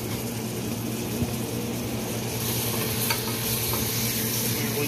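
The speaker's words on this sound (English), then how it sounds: "Stir that up." Ingredients for Ukrainian kapusta soup fry in a pan, giving a dense, even sizzle as they are stirred, with a few soft scrapes and knocks close by.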